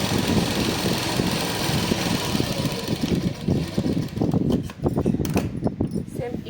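A sewing machine runs a double line of stitching along a seam of a Punjabi dress, giving a steady buzzing whir with short stop-start pulses, close by, while a person talks over it.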